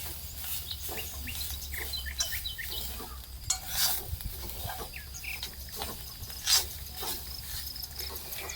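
Grated coconut roasting in a pan, stirred with repeated soft scraping strokes over a faint dry crackle. The sound is quiet and steady, with a couple of slightly louder scrapes.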